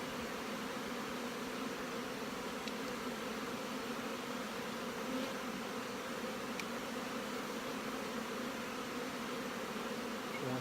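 Honey bees swarm around an open hive during queen rearing, their steady, dense buzz continuous and close throughout with no voices.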